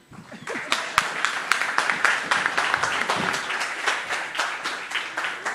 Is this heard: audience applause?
yes